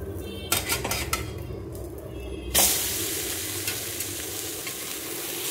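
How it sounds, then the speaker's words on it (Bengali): An egg fries in a pan, with scraping and clinks of a utensil against the metal before a sudden loud burst of sizzling as it is flipped, and steady frying hiss after. "আমি এখন উল্টে দিচ্ছি ডিম ভাজাটা।"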